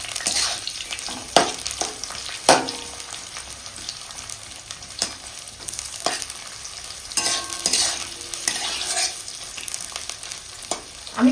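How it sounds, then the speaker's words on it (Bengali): Onions fry in mustard oil with a crackling sizzle, broken by repeated sharp scrapes and clinks of a spoon stirring the pan, close and without talk. "এবার আমি পেঁয়াজটা দিয়ে এর মধ্যে দিয়ে দেবো। পেঁয়াজটা খুব লাল করে ভেজে নেব।"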